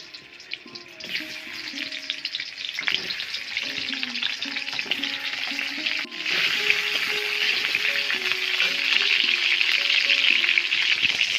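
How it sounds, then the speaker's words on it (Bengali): Potatoes with turmeric and salt fry in hot oil, a steady close sizzle that thickens and grows louder as more pieces go in, with occasional stirring knocks underneath. "তেলটা গরম হয়ে গেছে আমার, আলুগুলো দিয়ে দিচ্ছি"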